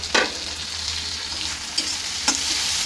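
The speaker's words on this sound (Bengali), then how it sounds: "টমেটোগুলোকেও পেঁয়াজের সাথে ভালো করে মিশিয়ে দেব, একটু হালকা করে ভেজে নেব।" Onion and chopped tomato sizzle steadily in a pan for chicken kosha, with a few soft scraping strokes of a spoon stirring through; close and moderately quiet, no voices.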